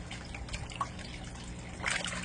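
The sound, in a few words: bluegill fish splashing water while eating pellets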